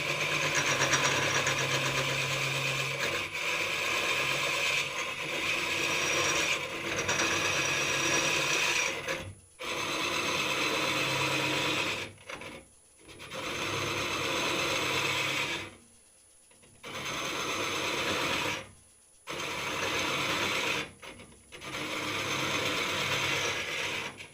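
A wood lathe hollowing a workpiece runs with a loud, continuous mechanical whir and rattle, broken by several brief stops and restarts.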